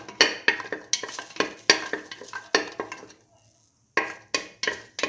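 Shallots sautéing in a pan are heard as a run of loud, rhythmic spatula scrapes and tosses over sizzling, with a brief quiet gap before the stirring starts up again.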